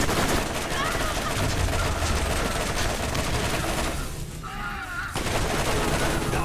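Rapid, dense gunfire from turrets in the video game Borderlands fills the scene, loud and continuous, with a brief lull before the shooting resumes.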